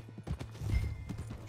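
Horse hooves clip-clop on a street in Red Dead Redemption 2's Western town of Valentine, a steady patter of hoofbeats with low rumbling underneath and no speech.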